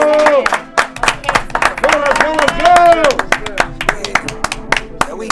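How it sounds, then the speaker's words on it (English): Hands clap together as a small group welcomes a podcast guest, with loud, quick, uneven clapping mixed with cheering voices and shouts. "Y'all clap it up."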